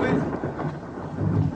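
Steady rain with low rumbling thunder fills the whole stretch, a constant wet hiss over deep rolling noise, fairly close and even in level.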